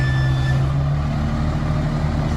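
A large truck idles with a heavy low engine rumble while steady high backup beeps sound briefly near the start.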